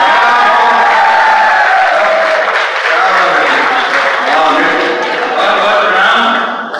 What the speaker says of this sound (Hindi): मैं देख रहा हूं कि ताली केवल युवाओं ने ही बजाई है